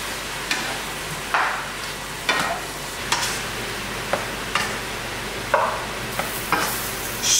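Roughly fourteen pounds of meat sizzling in a pan while being stirred, with about ten sharp scraping strokes at irregular intervals over a constant frying hiss, close up and with no talking.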